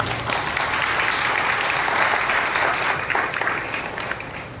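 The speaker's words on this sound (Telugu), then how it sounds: "బిగ్గరగా చప్పట్ల చేద్దాం" A church congregation at a Sunday worship service in Nellore claps loudly, a full, sustained roar of many hands that stays even, then tapers off toward the close.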